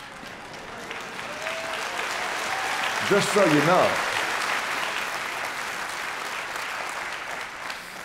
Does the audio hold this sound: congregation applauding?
yes